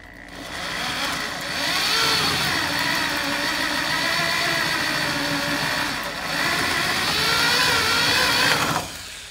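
A drill bit with a little oil bores out a spot weld on a car's front radiator support, a loud, sustained whirring grind in two long runs with a brief dip between, then stopping.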